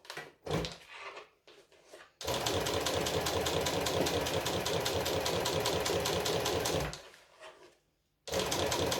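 A sewing machine top-stitches a vinyl pouch, starting with a few brief stutters, then running as a loud, steady mechanical whir for about five seconds, pausing, and starting up again.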